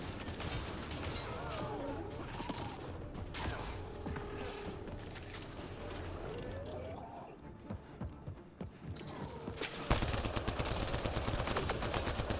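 Semi-automatic Avenger rifle fire from the Mass Effect Andromeda multiplayer game, a busy run of sharp gunshot cracks mixed with other combat effects and clatter across the whole stretch, fairly steady in level with a louder burst near the end.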